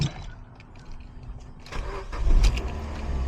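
A Suzuki Swift engine, freshly filled with oil, cranks and catches about halfway through, then settles into a loud, rough running rumble close by.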